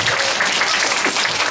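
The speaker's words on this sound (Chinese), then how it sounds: "大家热情鼓掌" Audience applause in a hall at a children's science show, a dense, even roar of many hands clapping together, loud and continuous throughout.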